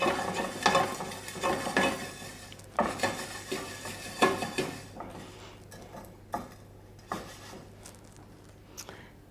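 Cumin and coriander seeds toast in a pan, stirred with a utensil that clanks repeatedly against the metal over a faint steady sizzle, the knocks close and irregular.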